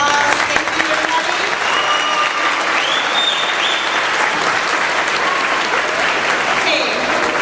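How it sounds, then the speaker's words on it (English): A school choir concert audience gives a sustained round of applause, loud and close. Many hands clap in a continuous wash, and voices cheer and call out through it. "So let's give all of them a round of applause."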